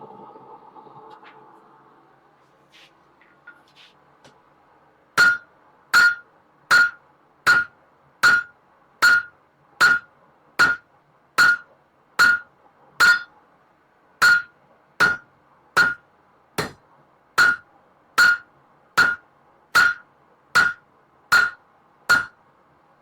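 Hand hammer forging wolf jaw tongs on an anvil: after a few quiet seconds, about twenty sharp, ringing metallic blows fall in a steady, evenly spaced rhythm, loud and close, with no talk over them.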